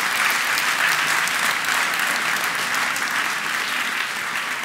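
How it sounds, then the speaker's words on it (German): An audience at a university media night claps steadily in a dense, even wave of applause that holds throughout and fades only slightly at the end. "Ich meine, Applaus dafür."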